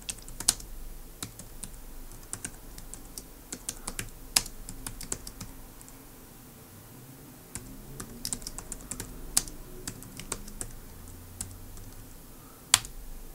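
Keys clatter in steady irregular bursts as a computer keyboard types in a magazine program listing of MLX code, close and fairly quiet with a few sharper clicks and no talk.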